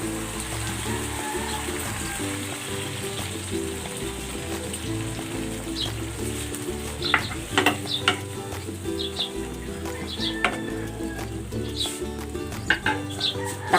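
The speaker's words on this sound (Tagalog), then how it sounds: "Ibubuhos ko na itong gata" Coconut milk pours into a hot pan of chicken adobo, setting off a continuous wet sizzle and bubbling hiss, with scattered sharp pops and crackles throughout.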